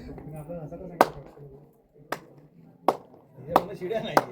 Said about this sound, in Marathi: तिथे टाळी वाजवली तरी चारी कोपऱ्यांमधून आवाज आपल्याला परत येतो